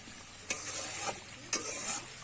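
Tangra fish bubbles in a spicy oil curry as it simmers, with a steady sizzle and a few louder stirring scrapes in the pan. No voice is heard.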